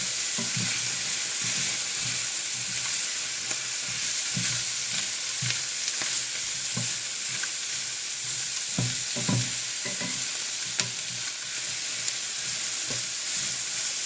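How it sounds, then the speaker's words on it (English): Mushrooms and garlic fry in a pan for a pantry pasta sauce, giving a steady close sizzle with scattered stirring scrapes and pops throughout. No one speaks. "So I'm just going to add in the mushrooms."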